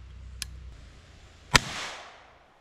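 Huben GK1 air rifle filled to 5,000 PSI fires 47 grain pellets: a faint click, then one sharp, loud crack that decays in a short hiss, heard alone against quiet room noise.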